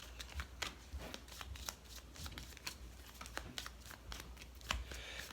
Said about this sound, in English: I have to shuffle my discard pile.